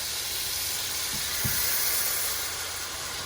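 Chicken frying in a pan with butter: steady sizzle with a constant bright hiss and a few soft pops, moderately close and continuous throughout.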